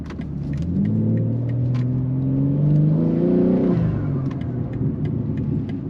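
A modified 500 hp G80 BMW M3 engine revs up loudly nearby, rising in pitch to a peak and dropping back to a deep, throaty idle rumble.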